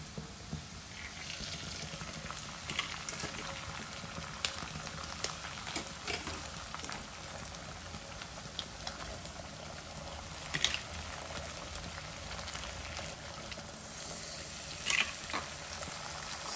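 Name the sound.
beaten egg cooking with fried onion in a pan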